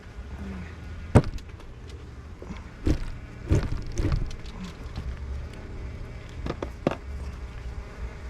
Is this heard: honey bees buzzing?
yes